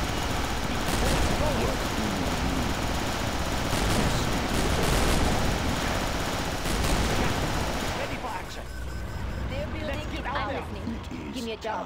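Rapid gatling gun fire in the real-time strategy game Command & Conquer: Generals, a dense sustained rattle under game music, unit announcements and explosions, easing off after about eight seconds.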